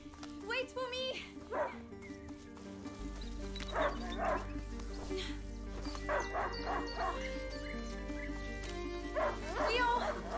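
A hunting dog in A Plague Tale: Innocence barks and whimpers in short repeated bursts over a steady musical score, fairly close, with game characters talking in between.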